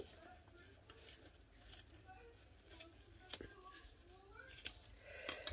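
Scissors snip through paper while making a scrapbooking photo album, a few quiet, sharp cuts spaced irregularly against faint room noise, with no one talking.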